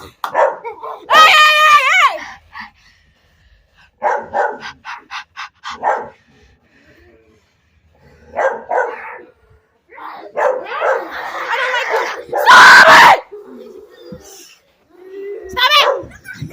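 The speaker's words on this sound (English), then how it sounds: "You barking at me!" Caged dogs bark loudly and close in sharp bursts, with yips and whimpers mixed in, broken by short quiet gaps while someone shouts at them.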